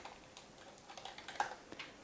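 Computer keyboard keys are pressed in a light, irregular series of soft clicks and taps, close but fairly quiet.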